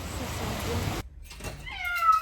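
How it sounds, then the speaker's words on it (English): A house cat gives a short, clear meow near the end, after a stretch of broad background noise that cuts off abruptly. "Today, it's my cat, Calvin"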